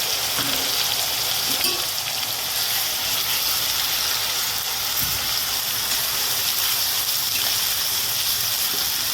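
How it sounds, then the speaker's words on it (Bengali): Onion and garlic paste fries in oil in a pan with a steady, loud hiss and crackle throughout, nearby and without speech. "পেঁয়াজ আর রসুন বাটার পেস্টটা আমি দিয়ে দিলাম।"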